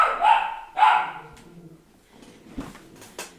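A dog barks twice in quick, loud bursts close by, followed by quiet shuffling and a couple of soft knocks.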